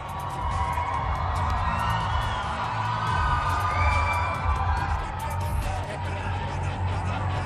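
Crowd at a live fight and stunt show cheering and whooping, a wide continuous roar with scattered shouts, heard under someone talking loudly close by.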